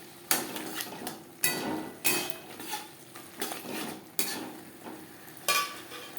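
Carrot and capsicum stir-fried with chicken in a pan for street-style chowmein: repeated scraping, clattering utensil strokes every second or so over a steady sizzle, close and moderately loud, with no talking.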